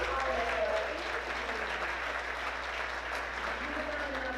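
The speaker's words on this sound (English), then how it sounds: "Can we give her a round of applause?" An audience at an award ceremony applauds steadily, a dense, even wash of clapping from many hands that holds at a constant level from start to finish, heard from within the room.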